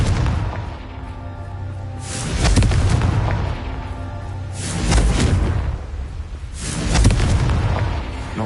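Confringo spell blasts in Hogwarts Legacy go off as three loud booming explosions about two seconds apart, each with a deep rumble that fades over a low background drone.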